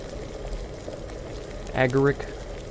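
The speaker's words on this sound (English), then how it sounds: "I have a feeling it shouldn't be boiling" An alchemy potion bubbles and boils in a cauldron in Kingdom Come: Deliverance, a continuous soft gurgling simmer throughout, with a brief voice rising near the end.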